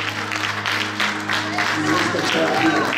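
Applause and hand clapping from a church congregation, a dense steady patter of many hands filling the room at close range, with voices and talk mixed in underneath.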